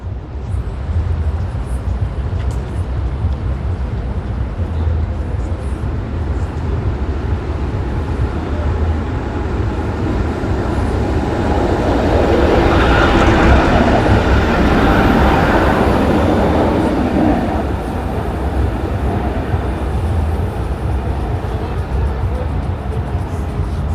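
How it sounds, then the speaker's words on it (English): A Hungarian-made tram pulls away from a stop in Budapest, giving a steady low rumble and a rising mechanical whine over busy city street noise. "And now I see a tram that's about to depart"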